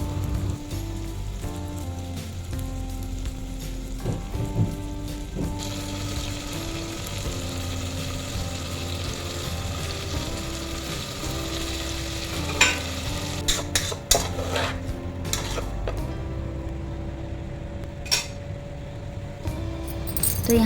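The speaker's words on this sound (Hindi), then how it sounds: "ऑनियन डालने के बाद अच्छी तरह से फ्राई करूँगी और ऑनियन को गोल्डन ब्राउन होने तक मैं फ्राई करूँगी अच्छे से।" Onions fry in a pan until golden brown. A continuous sizzle runs under stirring and clattering utensil scrapes, with sharper knocks later on.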